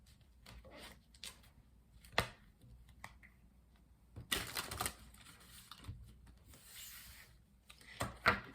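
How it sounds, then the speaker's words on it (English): Oracle cards are shuffled by hand in an irregular string of soft rubs and papery riffles, with sharper slaps and two louder flurries near the middle and the end. "Let's do some shuffling first."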